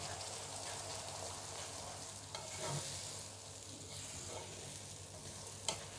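Ground red chili paste, turmeric, salt and coriander powder fry in oil over a low flame, giving a faint, even sizzle over a low steady hum, with a few soft clicks.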